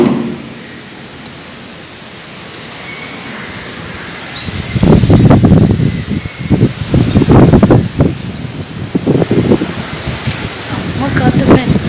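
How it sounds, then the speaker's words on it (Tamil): Strong wind gusts over a beach beside a rough, churning sea, a broad blustery roar buffeting close, with a voice talking over it in the second half. "காற்று ஃப்ரெண்ட்ஸ், பயங்கரமாக காற்றடிக்குது"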